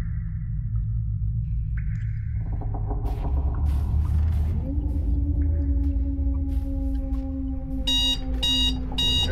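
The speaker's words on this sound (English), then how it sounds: "Timer went off." A timer alarm goes off in the horror exploration game Kholat, repeated electronic beeping bursts ringing out loud near the end over a low droning ambient game soundtrack.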